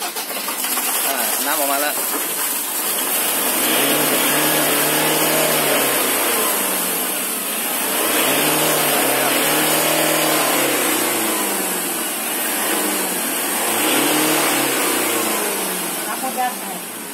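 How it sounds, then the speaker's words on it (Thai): A car's engine runs and is revved repeatedly in slow rising and falling surges during an exhaust pipe cleaning. It is loud and close, and people talk over it. "นี่ก็จะไปสตาร์ทเครื่องฮะ แล้วก็จะต้องเบิ้ล"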